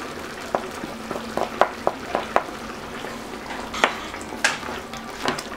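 Crushed garlic stirred into a pan of simmering tomato sauce for an Algerian minced-meat eggplant gratin, giving a steady low sizzle with scattered scraping clicks of a spoon against the pot, close and moderately quiet.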